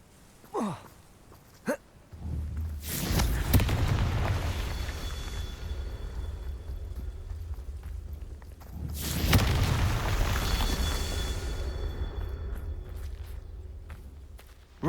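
Two heavy blasting-spell explosions from the Hogwarts Legacy video game, each a booming burst followed by a long rumbling fade, spaced several seconds apart after a couple of faint short clicks.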